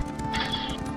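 Horse hooves galloping in a PS4 online PvP game, a rapid, even clip-clop rhythm with a brief whinny, close and steady over a dense layer of game sound.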